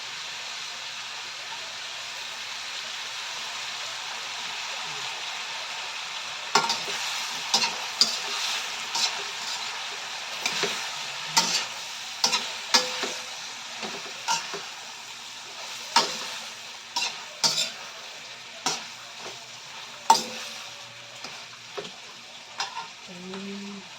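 Stir-fried mixed vegetables with pork sizzle steadily in a pan, as soy sauce is poured in and the frying hiss swells; sharp, repeated clanks of a utensil against the pan sound up close throughout the second half.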